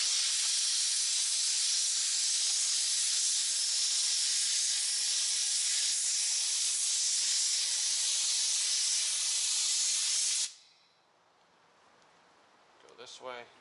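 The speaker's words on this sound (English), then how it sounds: "Take the compressed air like I show you." Compressed air blows hard through a BMC air filter from an Alfa Romeo Stelvio Ti Sport in a loud, continuous hiss lasting about ten seconds, then cuts off abruptly, leaving quiet room tone and a brief voice.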